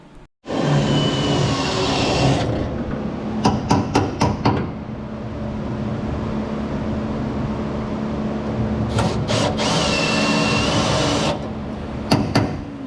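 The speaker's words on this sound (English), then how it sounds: "Guys are just drilling out those holes like we mentioned earlier. Drilling out those spot welds." Loud steady machine whine of a drill grinding out spot welds in the metal body of a Honda Civic EK, broken by a few sharp metallic taps and clanks, then the drilling resumes for a long stretch.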